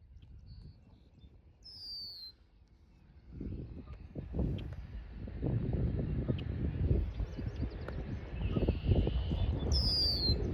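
A few faint, high bird chirps rise over quiet outdoor ambience at a farm pond park, mostly near the start and end, with low rustling and handling noise in between.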